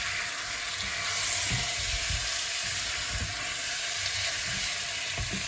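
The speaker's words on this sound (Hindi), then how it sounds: "इन सभी स्पाइसेस को शामिल करके आप चिकन के साथ हम भुनेंगे तकरीबन 10 मिनट के लिए" Chicken fries with korma spices and oil in a pan, a steady, loud, close sizzle that holds for several seconds, with faint stirring scrapes underneath and no talking.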